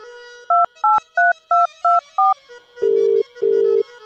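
A phone call is dialed: six quick evenly spaced keypad tones beep one after another, followed by two longer ringing tones, clear and close with a faint hum underneath.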